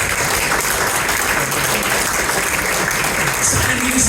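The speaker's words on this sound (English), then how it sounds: "So give Andy a big round of applause, ladies and gentlemen." Audience at a corporate dinner show clapping for a volunteer called up on stage, a dense steady burst of applause that holds at full loudness throughout.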